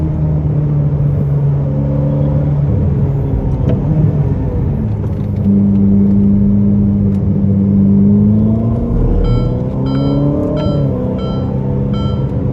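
Ferrari SF90 Stradale hybrid supercar on the Portimão race track, heard from inside as a loud, steady engine drone with shifting tones rising and falling through gear changes and a whining electric whir.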